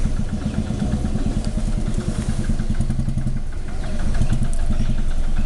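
A vehicle engine, likely a motorcycle, idles steadily with a loud, close, continuous chugging rumble on a forest road in Wayanad, Kerala.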